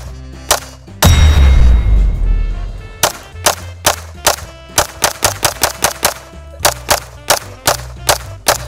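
Repeated gunshots from an Atlas Apollo firing at a target. A sharp report is followed by a loud, heavy blast, then a long run of a dozen or more close, punchy shots that come faster and closer together, with no talking.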